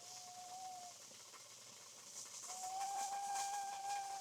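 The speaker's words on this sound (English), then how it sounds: "And the whistling is really good news because that means it's really getting hot in there now." Steam whistles from a SilverAnt titanium rice cooker, a thin tone that fades out briefly and then returns steadier and louder over constant close hissing, with no voices.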